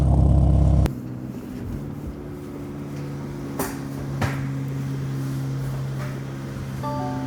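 BMW M5 engine running steadily with a constant low hum after a loud opening burst, overlaid by a few sharp knocks and clunks nearby, with no speech.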